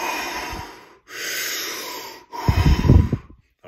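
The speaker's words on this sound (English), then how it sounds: "big in breath, big full out breath as well" Slow, deep full breaths in and out during a morning energizing exercise session, each long airy breath lasting about a second, with a rougher, snorting exhale at the end, close and clear with no talking.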